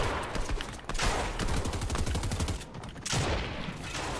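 Rapid automatic gunfire in an online shooter video game, a dense rattling burst of closely spaced shots lasting a couple of seconds, flanked by heavier single reports and combat noise, fairly quiet overall.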